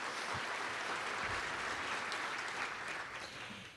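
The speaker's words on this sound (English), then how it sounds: "Let's give our firefighters a round of applause." Audience applause for firefighters at a county government address: steady, dense clapping that fills the whole stretch, tapering slightly at the end, with no voices over it.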